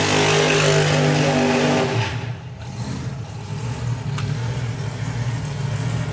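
A supercharged drag racing car at a Bug Jam drag strip meet roars loudly, then the engine note drops away into a rumbling, crackling idle with background crowd and track noise.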